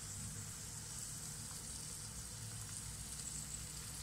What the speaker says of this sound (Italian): si sente soffriggere?